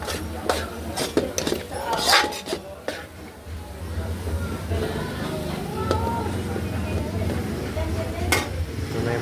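Food sizzles steadily in a hot pan while utensils clatter and scrape at the start; a constant frying hiss fills the rest, close by.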